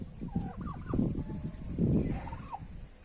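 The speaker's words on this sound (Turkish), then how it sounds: "bunlar da Niyazi kazımızın büyüttüğü yavru hindilerimiz ve büyüdüler" Young turkeys gobbling close by, a run of warbling, rapid calls rising and falling over about three seconds, with no talking.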